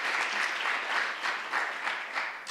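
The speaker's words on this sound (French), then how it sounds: "On peut encore applaudir cette intime conviction" Sustained audience applause at an evening law lecture event, a steady wash of many hands clapping at moderate loudness throughout, with no speech over it.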